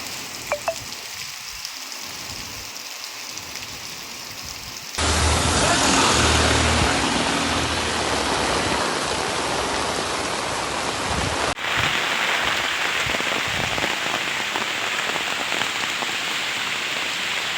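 Heavy rain pours down in Chikmagalur as a dense, steady roar of drops on surfaces that grows louder and fuller partway through.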